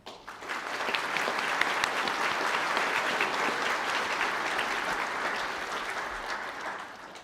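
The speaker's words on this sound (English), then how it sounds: "Can I ask the graduates of the Bachelor of Arts Honours in Culinary Arts to stand and receive your applause?" Sustained applause from a large audience for culinary arts honours graduates standing at a college graduation ceremony in a hotel hall, swelling quickly and holding steady for several seconds before tapering slightly.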